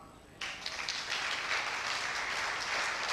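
Audience in a church breaking into sustained applause, a steady wash of many hands clapping that starts abruptly and continues at moderate loudness without pause.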